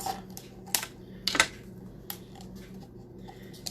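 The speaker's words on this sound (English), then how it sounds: "So let's take our scissors and do that." A few sharp snips of scissors cut through a stiff plastic soda bottle, two clear bursts then quieter clicks, close by with no talking.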